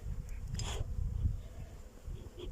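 Honeybees buzzing around an open hive during a colony inspection, with orange peel being burned as smoke; a steady low drone with a few brief louder passes from bees flying close.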